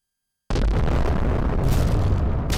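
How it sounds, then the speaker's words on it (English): A sudden loud blast bursts in after a half-second of silence, then sustains as a dense, roaring rumble with heavy low-end debris noise for two seconds, no voices. "Hopefully that was a nuclear explosion."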